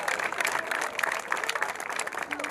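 Church congregation applauding during a Kinyarwanda worship service, a dense steady wash of many hands clapping continuously with some crowd noise, fairly loud throughout.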